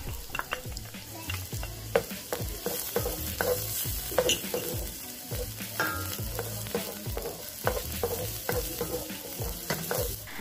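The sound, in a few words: onion and garlic sautéing in a pan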